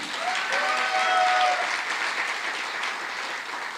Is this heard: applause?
yes